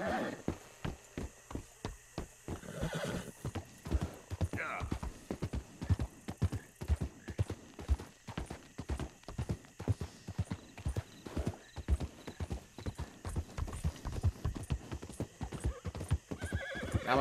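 Rapid, steady hoofbeats of a galloping horse in the video game Red Dead Redemption 2 pound close by for the whole stretch, with a brief whinny early on.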